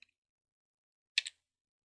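A computer keyboard gives a short burst of two or three quick, crisp key taps after near silence, with one faint click at the very start.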